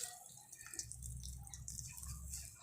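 Water drips and trickles faintly as grated mooli radish is squeezed by hand in a kitchen, soft scattered drops over a low background hum with no talking.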